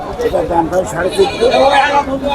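Goats bleat repeatedly at a busy goat market in Manirampur, Jessore, their cries rising over a steady hubbub of crowd chatter and nearby voices.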